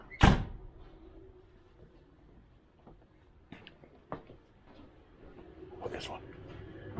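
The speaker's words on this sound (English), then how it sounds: "Forgotten how nicely these doors close." A solid thud near the start as a Triumph TR7 car door shuts, followed by quiet room tone with a few light clicks and taps.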